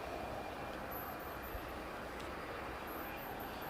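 A Cessna Citation business jet, five years old and built in January 2017, rolls along the runway after landing from Paris, a steady broadband jet roar at moderate distance with no breaks across the short stretch.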